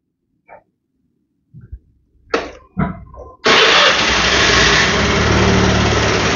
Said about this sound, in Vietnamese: Mình cho nổ máy nhé.